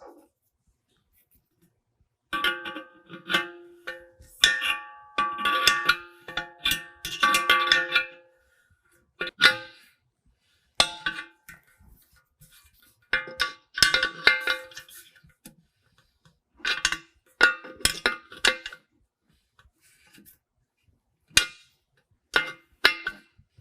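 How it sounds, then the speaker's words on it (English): A 9/16 wrench tightens a fitting on a VIAIR overlanding onboard air compressor, giving bursts of sharp metallic clicking and ratcheting with quiet pauses between, close and fairly crisp. "we're going to tighten that down with a 9/16."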